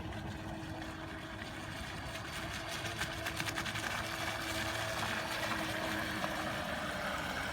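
The small electric motor of a CarpMaster PROFI fishing bait boat with an upgraded drive system runs steadily on the water, a continuous whirring hum at constant level with a faint buzzing texture throughout.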